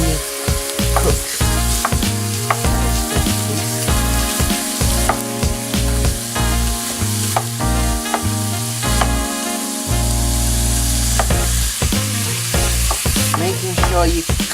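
Ground meat frying with onions in a pan for a French cottage pie, with a loud, steady sizzle and repeated scraping and stirring clatter as the meat is broken up, alone without talk.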